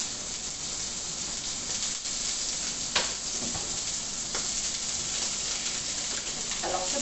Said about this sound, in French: On va déjà les mettre dans la poêle avec un petit peu d'huile d'olive.